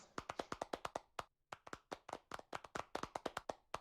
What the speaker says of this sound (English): Now, please, round of applause.